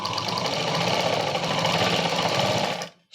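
A sewing machine stitching a Punjabi dress runs in a loud, steady, rapid rattle close by for nearly three seconds, then stops abruptly.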